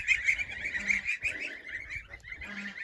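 Young turkey poults in a wet pen, giving thin, high repeated peeping calls in quick overlapping bursts, close by and fairly soft, with no talking.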